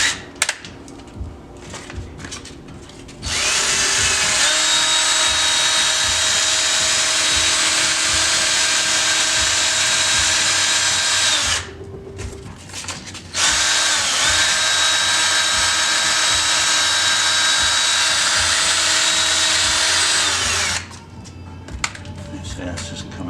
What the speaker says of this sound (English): what you can do is also just spin them in a drill